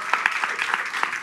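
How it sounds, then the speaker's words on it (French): Audience applause for panelists at a round-table event, a dense steady patter of many hands clapping at moderate distance, brief and even without a clear peak. "Vous allez faire un tonnerre d'acclamation"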